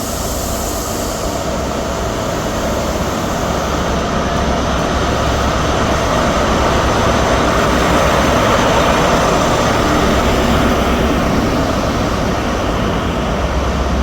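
Scotrail train departing Dundee station on its way from Glasgow Queen Street to Aberdeen, a loud sustained diesel engine roar and rumble that holds steady, without anyone talking.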